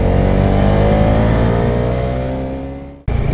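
A Bajaj Dominar 250 motorcycle engine revs hard and loud up close, its droning tone holding then fading briefly during a downshift before the throttle snaps open again and the engine roars back.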